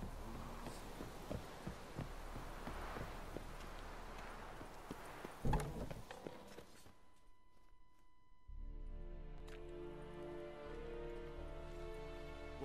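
Horse hooves clip-clop at a steady gait in The Witcher 3, blended with game ambience and a soft hum; the trotting rhythm continues across the clip, with a brief thud midway and a quieter stretch before the sound returns.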